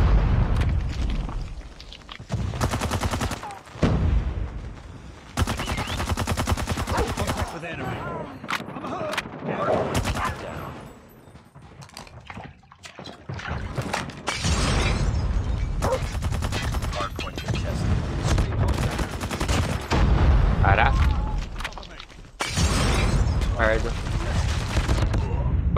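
Rapid gunfire bursts from a Call of Duty multiplayer ranked match, with the Striker 45 in use, crack out loudly in clusters separated by short lulls, mixed with explosive booms and in-game voice callouts.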